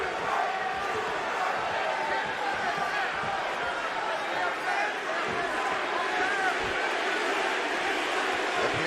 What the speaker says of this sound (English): Appears to be a pro-Stipe crowd here tonight.